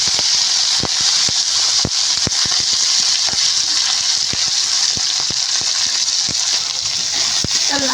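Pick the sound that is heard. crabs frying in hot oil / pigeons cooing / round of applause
crabs frying in hot oil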